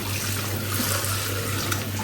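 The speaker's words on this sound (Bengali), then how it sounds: "বাট আমি এখন হাতটা ধুয়ে ফেলছি" Tap water runs steadily into a kitchen sink as hands are washed beneath it, a continuous close splashing hiss with no talk.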